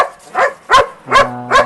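A gray Belgian Malinois with black paws barks four times in an even rhythm, each bark short and loud at close range. A low steady hum runs beneath the last two barks.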